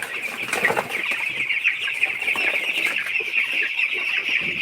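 Two-week-old broiler chicks in their pen give a continuous chorus of shrill peeping and soft clucks, close and busy, with occasional wing flutters.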